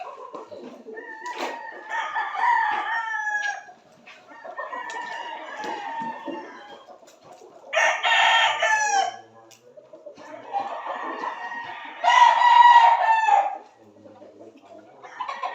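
A rooster crows several times in succession, loud and close, each call a long rising-and-falling cry separated by short pauses.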